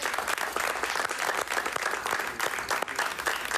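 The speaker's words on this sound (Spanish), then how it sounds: "Un aplauso, ¿no? Un aplauso." Studio audience applauding at the end of a televised interview, a moderate burst of many hands clapping steadily for a few seconds.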